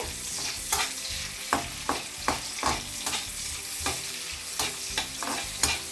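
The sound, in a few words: chopped onion frying in oil, being stirred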